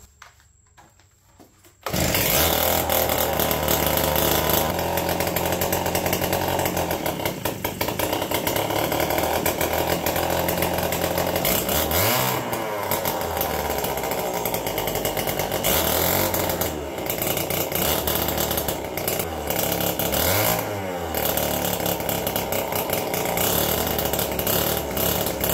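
An APC mini chopper's small engine runs loud and close with a harsh, buzzy drone, held near a rev limiter and revving up and down in repeated surges.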